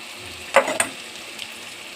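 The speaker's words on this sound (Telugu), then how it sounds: "ఇందులోకి క్యాబేజ్ వేసుకుందాం." Shredded cabbage drops into a hot pan and sets off two short, bright sizzling bursts near the mic, then the frying fades to a soft, quiet hiss.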